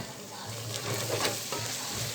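Ginger garlic paste frying with mutton in a pot, a steady close sizzle with soft stirring scrapes running throughout.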